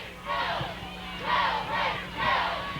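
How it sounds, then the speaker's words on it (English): Home crowd at a 1997 high school football game, Nettleton Raiders against Huntsville Eagles, roaring in three rising and falling surges of cheering and shouting, loud and close, with no clear talk over it. "Here comes the crowd"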